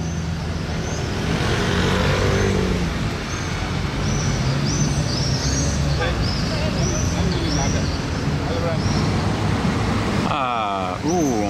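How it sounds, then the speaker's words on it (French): A 12-cylinder Spider sports car drives past on a busy Monaco street, its engine note steady and fairly distant under traffic and crowd noise, ending in a short rising sweep. "Première fois que je vois une 12 cylindrée Spider en mouvement."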